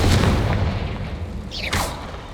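A Confringo fire-blast spell from Hogwarts Legacy erupts as a loud, close booming burst, followed by a brief crackling flare and a second whooshing impact.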